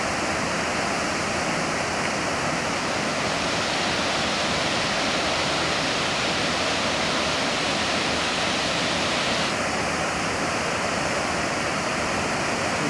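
Perwaghagh waterfall in the forest roars as a loud, dense, continuous rush of falling water, close and unbroken with no voices.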